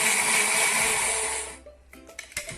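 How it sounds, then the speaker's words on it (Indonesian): Blender whirring as it purées pandan and suji leaves with water, a loud steady motor drone that cuts off after about a second and a half, followed by faint clinks and small knocks. "Kita blender daun pandan dan suji hingga halus."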